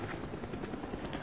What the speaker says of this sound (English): I've been getting the helicopter here, the attack helicopter